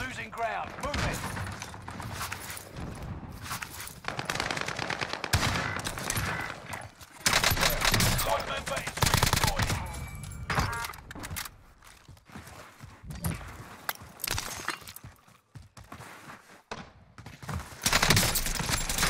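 Dual AK-47s fire in Call of Duty on Rebirth Island, with dense bursts of rapid automatic gunfire, footsteps and game chaos throughout, loud and continuous, under a player talking and groaning.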